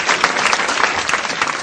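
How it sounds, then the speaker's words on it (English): Steady applause from a studio audience at a televised quiz show, a dense clatter of many hands that holds at an even level for the whole stretch, with no voices above it. "Big round of applause"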